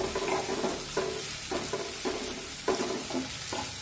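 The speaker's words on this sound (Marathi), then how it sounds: "आता एकसारखा हा कांदा असा हलवून घेऊ, म्हणजे मग तो सगळीकडून एकसारखा भाजला जाईल" Onion being stirred as it fries in a pan, with about seven distinct scraping strokes set against a soft, continuous sizzle, close and fairly quiet.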